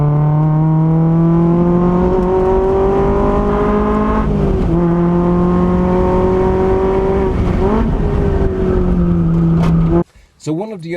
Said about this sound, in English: this is Johnny now bringing me on a lap.